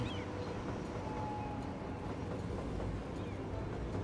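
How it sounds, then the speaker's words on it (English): A train in Cities: Skylines, heard as a faint, steady rumble of rolling rail cars under a low background hum, with no voices. "Train"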